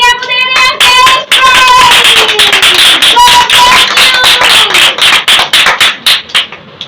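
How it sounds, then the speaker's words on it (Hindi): A crowd at a kids' ministry Bible competition claps loudly for a child's first prize, with dense, close, sustained applause that thins into scattered claps at the end, mixed with tonal electronic sounds at the start. "शाबाश दिया के लिए जोरदार तालियां चाहिए"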